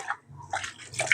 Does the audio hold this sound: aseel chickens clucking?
no